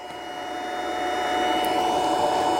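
A Geeetech MeCreator2 3D printer drives its axis, giving a close, steady whirring motor hum with faint high whine that swells slightly and holds for a couple of seconds.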